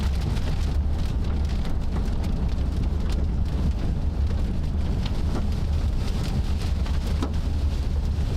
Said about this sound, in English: You got a little bit of hail.